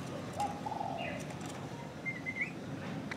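Spotted dove, a wild-caught bird from Hòn Đen mountain in Phú Yên, gives soft cooing calls over steady background hiss, with a few brief higher chirps, moderately near.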